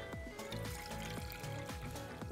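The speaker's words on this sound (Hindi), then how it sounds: "यहाँ पे हमने एक पैन ले लिया और इसमें पानी शामिल करेंगे तकरीबन 2 से 3 कप" Water is poured into a cooking pan, about two to three cups, for Kashmiri pink chai. A quiet trickle and splash continue alone throughout.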